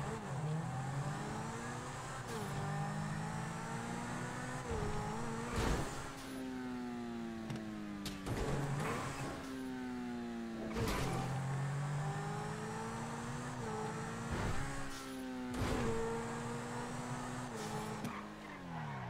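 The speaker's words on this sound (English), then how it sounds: "We're going to jump in our car, use the pretty standard jump to get inside the airport boundary." A car driven in GTA 5 Online near an airport, its engine loud and close, revving up and shifting repeatedly with rising and falling pitch, tire noise running beneath, sustained for the whole stretch.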